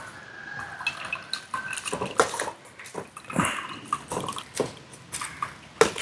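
Thick homemade Ayurvedic oil drips and splats through a strainer into a bowl in irregular, close plops and small splashes against a quiet background, with occasional clinks of utensils.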